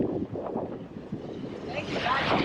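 Strong wind blows across an Aruba beach, buffeting the microphone with a steady, loud roar that swells toward the end, with people talking faintly underneath.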